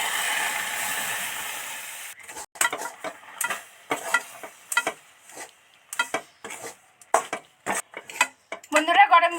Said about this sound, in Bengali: অল্প অল্প জল দিয়ে নাড়তে হবে